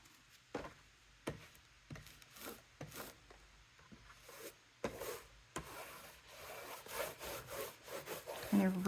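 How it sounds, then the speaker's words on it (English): A ruler rubbing down glued paper on a notepad folio made from a Dollar Tree box, heard as close rhythmic scraping strokes repeated roughly every second, with brief quiet gaps between them. "You also could use a ruler right here just to rub it down."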